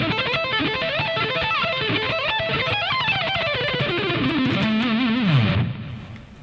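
Distorted electric guitar playing a rapid run woven together with arpeggios, a dense continuous stream of quick notes that falls away near the end, with no voices over it.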